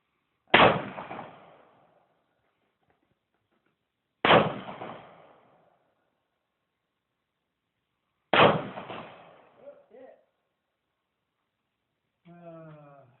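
Three loud gunshots at a shooting range crack out about four seconds apart, each followed by a short echoing decay, and a brief voice is heard at the end.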